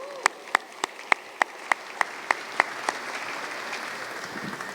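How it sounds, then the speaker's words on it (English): A handful of sharp, evenly spaced claps at an alumni gala fundraiser, about ten distinct hits in quick rhythm, then fading into a soft, diffuse patter of audience applause. "Let's give them a round of applause."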